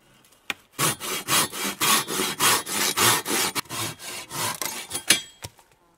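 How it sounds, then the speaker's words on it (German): Hand saw cutting branches off a wooden log outdoors at a bushcraft camp, a steady series of about fourteen rhythmic back-and-forth strokes, close and loud, with a few sharp knocks at the start and end. "jetzt wird gesägt"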